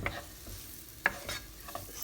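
Onions, garlic and ginger fry on high heat in a pan for a black bean and potato stir-fry, giving a steady close sizzle broken by a few sharp stirring scrapes.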